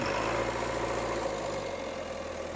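Sonalika tractor running while stuck in a field while hitched to a trolley: a steady, loud engine drone with a low rumble holds throughout, with no voices.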